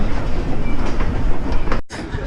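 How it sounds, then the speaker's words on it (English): A ride-on train rumbles and clatters inside Macy's Santa Land, a loud steady rolling rush with rhythmic clacking that cuts off abruptly near the end. "Look at the train."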